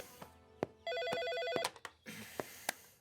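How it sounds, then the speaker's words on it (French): An office telephone rings with an electronic warble, a short burst of bright ringing set among scattered clicks and knocks in a quiet room. "vous avez un appel de Madame Marie-Passe Lomelli."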